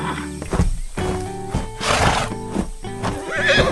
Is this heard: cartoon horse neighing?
yes